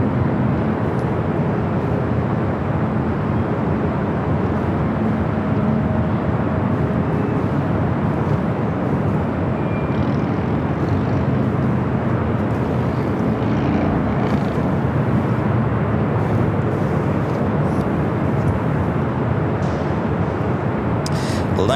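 A Delta Boeing 737-900ER jet rumbles on the airfield at LAX, a loud, steady engine roar holding for the full stretch with faint ticks and clicks above it.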